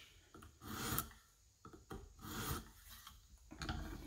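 A Case knife blade pushed across a KME 300-grit hone: rhythmic rasping strokes, about five sweeps with short pauses between, close and crisp with no talk.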